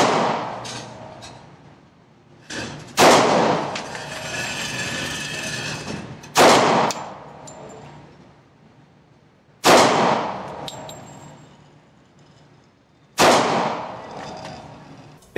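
A Glock 36 handgun chambered in .45 Auto fired outdoors, five sharp, loud shots spaced a few seconds apart, each followed by a long ringing echo and reverberation, no talking.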